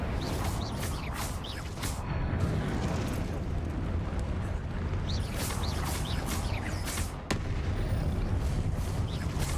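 Fire spells Confringo and Incendio explode repeatedly in the video game Hogwarts Legacy, a dense run of loud booming blasts and crackling bursts over a constant rumbling bed of game effects.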